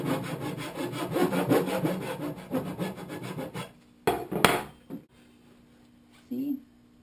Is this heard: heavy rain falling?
no